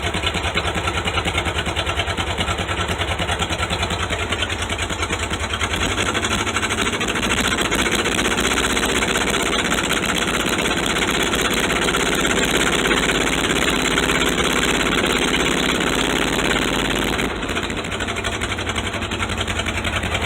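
A cold 1975 Ford F-100 truck engine idles roughly with an uneven, missing beat, holding a steady loud chug throughout with no talk over it.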